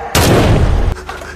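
A single accidental gunshot in a film scene, a sharp blast that bursts out and rumbles for just under a second before cutting off, with no voices.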